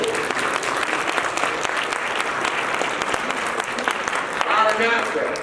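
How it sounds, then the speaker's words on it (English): Audience applause for a speaker at a university Confucius Institute anniversary event, sustained and fairly loud, with a brief voice emerging near the end. "Yes, another round of applause there."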